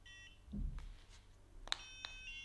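A NuFACE facial toning device gives a couple of faint, high, short beeps, with small handling noises beforehand in a quiet room.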